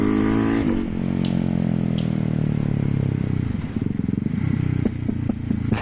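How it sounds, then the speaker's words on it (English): A Ducati Hypermotard's engine drones loud and close while riding, its pitch falling as the bike slows, then a rough, crackling idle-like burble with clattering pops toward the end. "It's not that fast, but it sounds, the sound is it's a Ducati."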